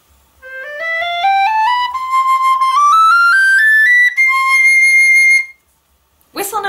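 A Chris Wall custom Celtic tin whistle plays a clear, loud rising run of single notes climbing into the second octave, each tone steady and bright, ending in a held high note before a brief breathy sound.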